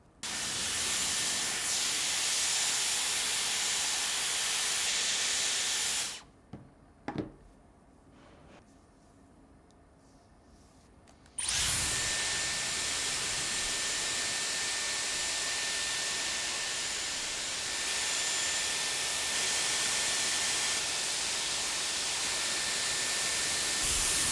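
A Dyson Airwrap hair styler blows air with a loud, steady, close-up hiss. It cuts off for about five seconds, leaving faint handling clicks, then starts again and runs to the end.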